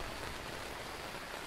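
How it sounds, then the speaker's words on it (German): Steady rainfall in the ghost-hunting game Phasmophobia during its Halloween event, a dense, even hiss of drops on surfaces that fills the moment alone without any talk. "Regengeräusche."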